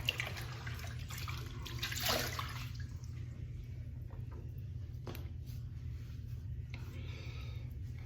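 Tap water runs and splashes faintly into a sink while a man wets the back of his neck for a straight razor shave, a soft steady trickle with a few louder splashes early on.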